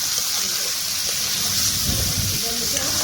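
Soft, steady sizzle of broiler chicken frying with onions in a pan for Assamese chicken curry, with faint stirring noises and a voice talking over it.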